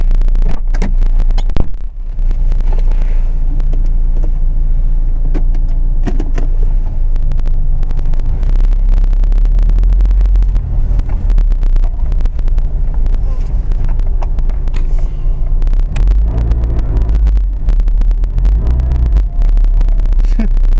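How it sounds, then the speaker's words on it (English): A 1999 Saturn SL2 car being driven, with steady engine and road rumble inside the cabin and occasional wind buffeting, plus a faint whine while reversing. "Reversing this thing sounds a lot like a stick shift. It whines."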